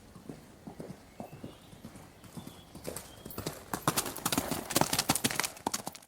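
Horse hooves clip-clop steadily as a palace horse of the royal guard moves in an animated Disney film, starting moderate and growing louder and denser toward the end.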